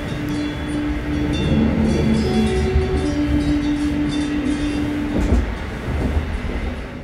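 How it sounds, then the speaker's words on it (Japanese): Onboard chime of the Golden Pass Express train in Switzerland, a melody in alphorn-like tone heard faintly over loud rumbling train noise and rattling carriages, with sustained horn-like notes in the first few seconds. "これは、スイスの伝統楽器、アルプホルンの音色だと思います"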